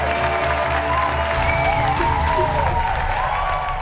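Audience applause fills the room in a steady, continuous wash of clapping with a little cheering, fairly close and loud throughout.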